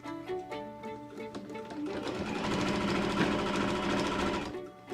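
A sewing machine stitches the seams of a fabric dog bed cover, running in short bursts at first and then in a long, steady, loud continuous whir.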